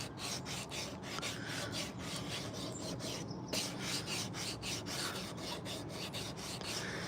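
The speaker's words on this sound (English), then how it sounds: "Sitting there sanding a little ladle." Quiet, rhythmic rasping of sandpaper on a small wooden ladle, repeated back-and-forth strokes at a steady pace, close by.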